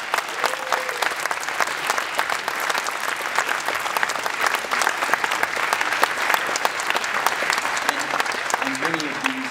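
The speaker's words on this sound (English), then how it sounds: "So let's hear a round of applause for jazz." Audience applause for jazz musicians of an army big band, dense and sustained clapping across the whole stretch, loud and close, with brief instrument notes near the end.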